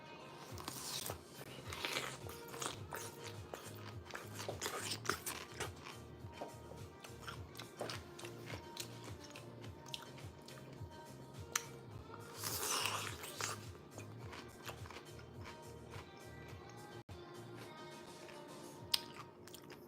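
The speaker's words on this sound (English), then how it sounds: "Pickle ASMR." Someone crunches and chews a pickle close to the microphone in an ASMR style, with repeated wet bites and rhythmic chewing over about twenty seconds.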